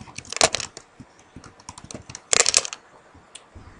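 Keys clatter on a computer keyboard in two quick bursts of rapid typing, with scattered single keystrokes and brief pauses between them, close and fairly loud, with no talking.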